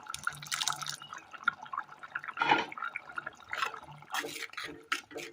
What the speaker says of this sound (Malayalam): പുളി പിഴിഞ്ഞ് വെള്ളം ഒഴിച്ച് കൊടുക്കാം